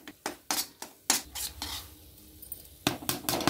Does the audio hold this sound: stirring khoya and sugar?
yes